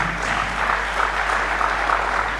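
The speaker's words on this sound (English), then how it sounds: "Why don't we give them a better clap once again?" Audience applause at a youth entrepreneurship career development session, a steady, moderately loud wash of clapping with a constant low hum underneath and no distinct individual claps.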